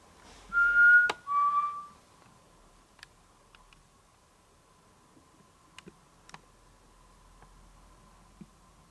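Two short whistled notes near the start, the second sliding slightly downward, followed by a quiet stretch with a few faint ticks and clicks.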